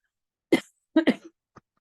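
A few short coughs close by: one cough, a quick double cough, then a faint small one, with quiet gaps between.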